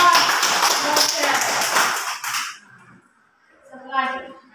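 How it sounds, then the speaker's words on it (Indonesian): A group of schoolchildren in a classroom clap their hands together in a brief burst of applause, dense and close for about two seconds, then a short silence before a voice speaks. "Tepuk tangan buat Bocah."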